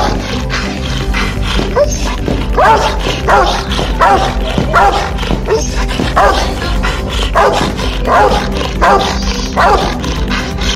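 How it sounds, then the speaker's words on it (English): A large dog barks repeatedly, close and loud, in a steady run of deep barks with some yips, set against a Rottweiler and a Presa Canario compared for bark power. "Powerful and loudest bark. Let's hear it first and we'll decide accordingly."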